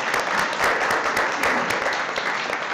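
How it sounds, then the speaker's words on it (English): An audience at a chef cooking competition bursts into steady, dense applause that fills the whole moment, close and loud, with no voices over it. "Give them a big round of applause."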